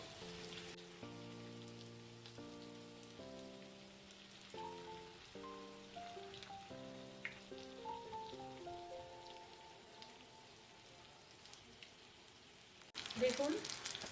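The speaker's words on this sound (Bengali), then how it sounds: "এক পাশ ফ্রাই হওয়া পর্যন্ত অপেক্ষা করতে হবে" Snacks made from Maggi noodles shallow-fry in a pan of oil, one side turning light brown. A soft, crackling sizzle patters quietly beneath gentle background music, growing a little louder at the very end.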